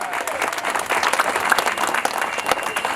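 Applause and cheering from an audience at a hot rod and custom car show's pin-up contest, a dense steady roar of clapping lasting throughout with crowd noise mixed in.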